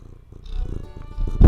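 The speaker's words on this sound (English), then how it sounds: "I don't know if you can hear the purring too." Domestic cat purring close to a microphone, a soft low rumbling that builds steadily, with a loud bump of contact at the end.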